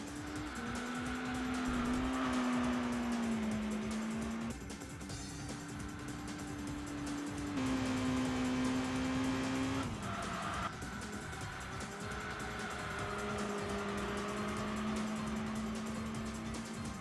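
Race car in the video game Enthusia: Professional Racing, engine whining with steady tones that rise and drop at gear changes, joined by long bursts of tire squeal, fairly quiet and continuous with no talk.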